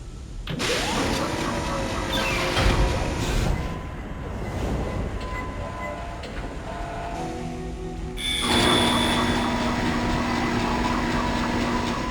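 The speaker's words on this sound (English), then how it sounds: "Replacing damaged tram car." In the Dead Space video game, a tram car arrives with a loud rumbling mechanical roar, grinding and whining as it pulls in, then a heavy surge of machinery near the end.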